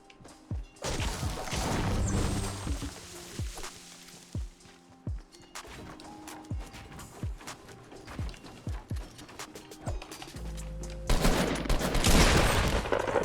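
Pump shotgun fire in Fortnite: a string of sharp booming shots spaced about half a second apart, with short bursts of loud louder game noise at the start and end, no talk.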